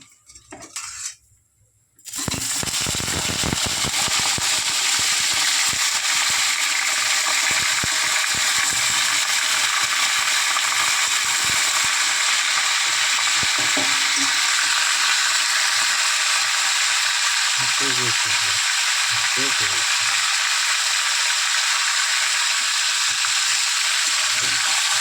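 Chicken pieces dropped into hot oil with bay leaf in a pan, breaking into a loud, steady, close sizzle that continues for over twenty seconds, with occasional utensil scrapes and no talking.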